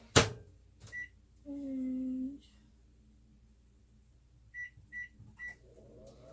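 A microwave that doubles as a toaster oven toasting a cheap store-brand bun, with a sharp opening thud, a brief low hum, then three quick electronic beeps, plus a little faint talk.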